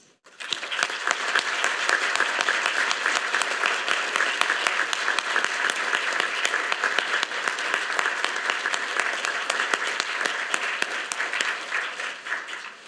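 Dense, steady applause from a large audience honoring the November 2022 United States Naval War College graduates at their graduation ceremony, continuing loud and unbroken for about thirteen seconds without any talking.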